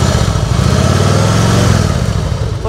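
A customised 2000 Harley-Davidson Fat Boy motorcycle engine runs loud and close, a steady throbbing rumble that swells slightly as it revs, with no voices over it.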